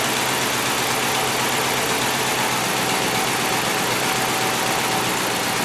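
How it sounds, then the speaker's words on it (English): A Dodge Ram 2500 engine idles with a cylinder misfire, giving a steady, loud, close mechanical drone with a slightly uneven pulse throughout. "So this is still misfiring."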